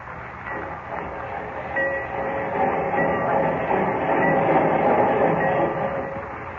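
Steady rumble and clatter of a train in a station, a continuous broad roar that swells slightly over several seconds, with no voices.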